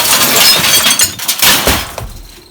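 Glass cracks and shatters while a CRT television picture tube is taken apart, with loud, dense breaking and crunching that comes in bursts for about two seconds before tailing off.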